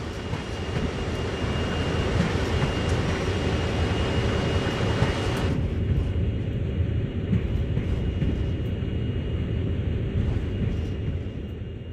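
A CSX heavy-haul freight train coasts along in Train Sim World, giving off a steady low rumble of rolling wheels and engine drone that turns slightly muffled partway through.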